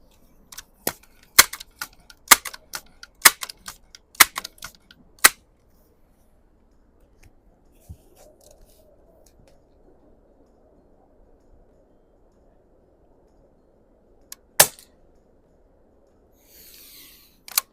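A Crosman Vapor Max air rifle fires pellets while plinking, sharp crisp pops in a quick irregular series early on, then a long quiet stretch and one more isolated shot near the end, close and loud.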